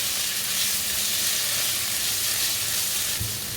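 Vegetables fry in a hot pan with garlic for egg fried rice, giving a loud, steady close-up sizzle and hiss with a brief stirring clatter near the end.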